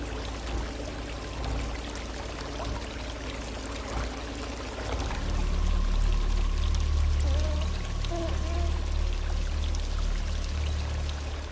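Water pours and rushes into a flooding underground bunker in a film scene, a steady gushing flow that swells much louder and fuller partway through.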